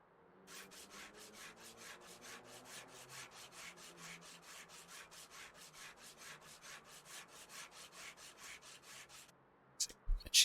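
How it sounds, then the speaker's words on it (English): Repeated rhythmic sanding strokes on a car's bodywork in the Car Dealer Simulator game, a steady back-and-forth rasp of about two strokes per second, followed by a few louder clicks at the end. "do a bit of sanding again."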